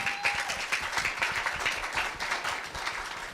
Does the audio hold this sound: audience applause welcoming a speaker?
yes